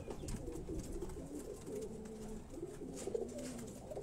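Parel pigeons on a rooftop loft coo repeatedly, the soft throaty calls overlapping in a low, rolling chorus that stays fairly faint and close, with gentle background noise and no talking.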